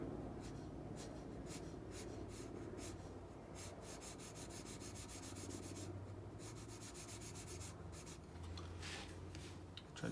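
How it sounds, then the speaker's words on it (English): A white pencil rubs steadily across toned drawing paper in broad side strokes, making a continuous close, soft scratchy sound with quick rhythmic back-and-forth passes. "we can come back with the white pencil again on the broad side here."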